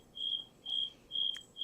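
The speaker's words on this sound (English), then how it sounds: "I'll play crickets, in the background." Crickets chirp in quiet background playback, a steady high trill repeating in short pulses, faint and with no voices over it.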